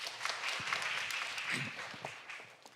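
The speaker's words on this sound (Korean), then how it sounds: "큰 박수 부탁드리겠습니다" An audience at a research briefing applauds a professor's introduction, with scattered, somewhat faint clapping that thins out toward the end.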